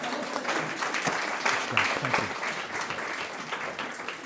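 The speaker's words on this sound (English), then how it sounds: "You clap after such a thing." A live audience gives sustained, moderately loud applause after an author's reading at a bookshop event, and a voice speaks briefly over the clapping near the end.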